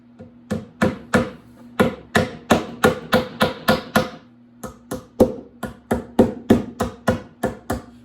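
A hammer drives nails into a wooden swarm trap for bees in quick, ringing blows, about twenty hits in bursts of several taps with short pauses between, close and loud.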